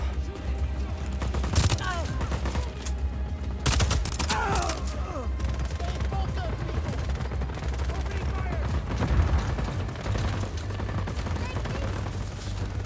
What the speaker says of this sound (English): Where's weapon fire coming from?